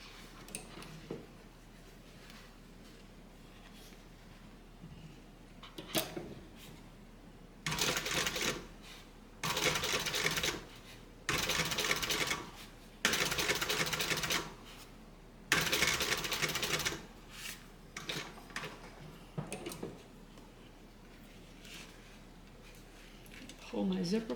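Several bursts of a sewing machine stitching a welt zippered bag pocket, each a few seconds long, with brief pauses between runs and faint handling noise in the gaps.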